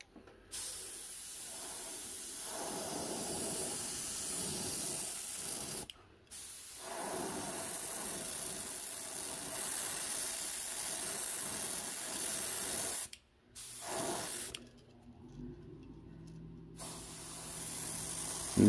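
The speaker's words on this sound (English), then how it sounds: "You just want to spray that at an angle." A steady hissing spray from an airbrush painting a trout fishing lure runs in long bursts, broken by a few short pauses, close and fairly loud.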